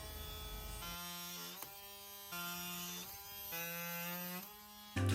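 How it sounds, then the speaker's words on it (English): Oscillating multi-tool buzzing in close, steady bursts with short pauses as it trims the excess from pocket hole plugs on plywood cabinets during a laundry room remodel. "I used pocket hole plugs and removed the excess with my multi-tool."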